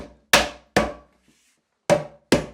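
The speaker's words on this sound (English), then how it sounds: "we're just going to use soft face rubber mallet, and we're just going to tap it back" Soft-faced rubber mallet tapping a floating shelf back onto its pins: four dull, close thuds in two pairs, with a faint click between them, and no talking.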